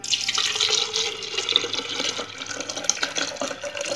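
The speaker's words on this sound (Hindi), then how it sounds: "हमने दूध को डालना है इसके अंदर" Milk pours steadily into a blender jug at close range, a continuous liquid splash and gurgle lasting several seconds with no talking.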